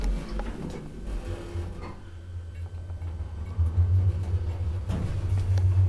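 An old Valmet (later Kone) traction elevator runs in a building at Pasilankatu 8 in Länsi-Pasila, Helsinki, a low rumbling hum with clicks and thumps, gaining strength toward the end.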